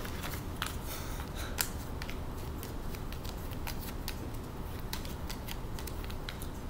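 A deck of cards is shuffled quickly, giving a run of close, crisp riffling clicks and snaps with no talking over it.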